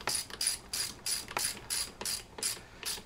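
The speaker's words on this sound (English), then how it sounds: "Tighten up that lower clamp." Ratchet clicking steadily on a Honda CL350 motorcycle's lower fork clamp bolt, about eight evenly spaced rapid bursts of metallic pawl clicks, close and clear with no talk.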